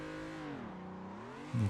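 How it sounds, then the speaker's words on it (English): A car engine in the racing game Assetto Corsa hums steadily, its pitch dipping and then rising again as if shifting through revs, with a sudden louder thump at the end. "So at least you hear the car a bit better."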